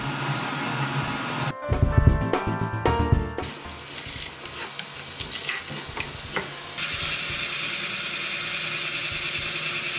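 A FLSUN Q5 delta 3D printer runs a print job. It gives off rattling clicks and whirring stepper-motor tones, rising and shifting, then settles into a steady mechanical hum at close range with no talk.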